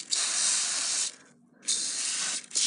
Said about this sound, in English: Spray it on the sprocket.